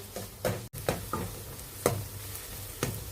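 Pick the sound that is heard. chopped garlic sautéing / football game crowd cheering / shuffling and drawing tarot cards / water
chopped garlic sautéing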